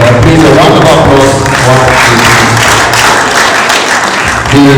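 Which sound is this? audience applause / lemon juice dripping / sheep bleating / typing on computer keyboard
audience applause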